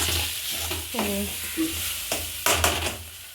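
Mixed thoran of coconut, chilli, turmeric, cumin and garlic stirred and fried in a pan, with a soft crackling sizzle and repeated scraping strokes of a spoon, close by and without talk.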